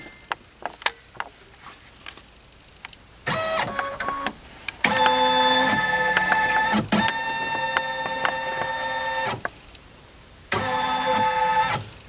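A Brother Innov-is XV embroidery machine scans for its camera marker. Its motors whir and buzz in several sustained tonal stretches, with clicks and ticks between them.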